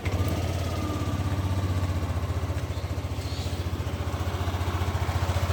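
A Yamaha Lexi scooter engine idles close to the recorder, a steady rapid low thrum with even pulsing beats, plus faint mechanical clatter from the CVT, running alone without voices.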